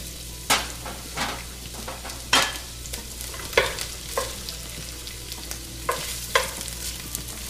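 Large sliced onions sautéing in olive oil, a soft continuous sizzle broken by about ten sharp scrapes and clacks of a utensil stirring around the pan at irregular intervals, close up with no talking.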